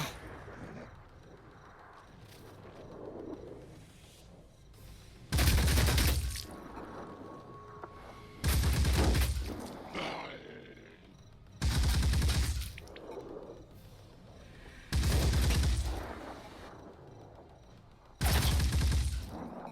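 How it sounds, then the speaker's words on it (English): Turret gunfire in the video game Phoenix Point comes as five separate loud bursts of rapid shots, each about a second long and spaced a few seconds apart, over a quiet ambient background. "Now the turret can shoot you back."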